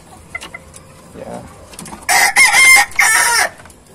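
A village chicken rooster crows loudly in two long bursts near the end, preceded by scattered soft hen clucks and faint background noise.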